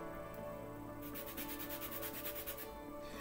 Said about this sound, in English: I've got a really large, heavy, scary-looking zester